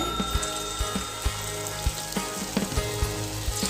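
Small pinched pieces of cabbage batter dropped into hot oil, giving a loud, continuous crackling sizzle broken by regular sharp ticks and pops.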